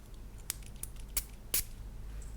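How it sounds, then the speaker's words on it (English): Perfume sprayed from a fragrance bottle in a quiet room: several short, sharp hissing puffs, close and fairly soft, spread over a couple of seconds, with no voices. "Do you enjoy the ASMR of me spraying the fragrances, or should I pre-spray the blotters?"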